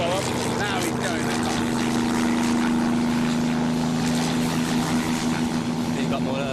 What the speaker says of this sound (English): The engine is free to breathe and the revs keep building.